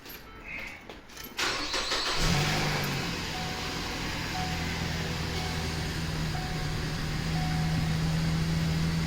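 A 2015 Ford Escape (non-turbo) cranks briefly, then catches and fires up, settling into a steady, close idle that carries on alone.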